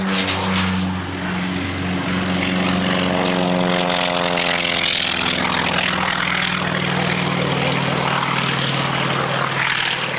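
T-28 propeller aircraft flown by John Romain at the North Weald airshow, a loud roaring engine with a pitch sweep as it passes close overhead and climbs away, continuous and dominant.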